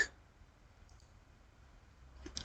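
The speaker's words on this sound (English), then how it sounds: "Double click on that" Faint computer mouse double click while working in the TeXstudio editor: two quick, soft ticks close together, then near-silence with a light hiss.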